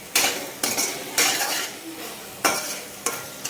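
A spoon scrapes and clanks through a tomato mixture in a metal pot for mushroom biryani, with about six distinct strokes at an uneven rhythm, each a bright scraping rasp, close and clear with no talking.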